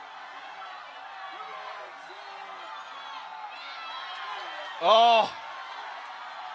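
A crowd at a bouldering climbing World Cup final in Vail cheers and whoops for a competitor, a steady murmur of cheering under a commentator's voice with one sharp, loud whoop or whistle rising briefly near the end.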